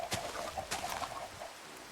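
Soft clucking from a few Minecraft chickens, short repeated calls over a faint background hum, fairly quiet.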